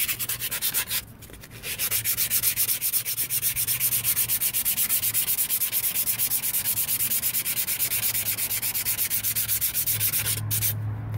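Coarse emery cloth rubbed hard over a grimy car brake rotor, giving a loud, steady, rapid back-and-forth sanding rasp that runs almost continuously after a brief pause near the start.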